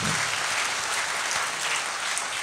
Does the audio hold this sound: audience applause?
yes